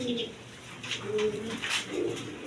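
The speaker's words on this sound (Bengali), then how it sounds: "এখানে এক পেয়ার ষাটিং কবুতর আছে" A pair of squab pigeons kept for sale coo in short low bursts, close and alone with a few brief chirps mixed in.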